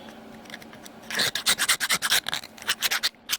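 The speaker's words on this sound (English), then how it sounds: "I come back to my other tool, this pink rat tail file." A pink rat tail file scrapes excess epoxy off a hanger in a rapid series of close, rasping strokes, starting after a quiet second and continuing in an uneven rhythm.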